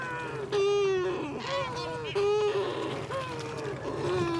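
Cory's shearwater seabirds calling, a series of loud, harsh, honking wails with rising and falling tones, several overlapping cries close by against a low steady background hum.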